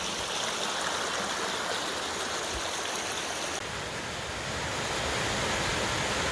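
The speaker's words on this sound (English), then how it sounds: "So one of the many creeks coming across the trail." A creek with a strong winter flow crosses a hiking trail in the Oregon Coast Range, rushing and splashing steadily and close by for the whole stretch, with no voices.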